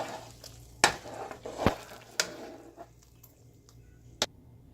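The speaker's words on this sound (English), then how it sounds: "So I'm going to stir it." Ogbono soup with red palm oil being stirred in a pot, heard as a few faint, scattered scrapes and knocks of the spoon over a quiet background.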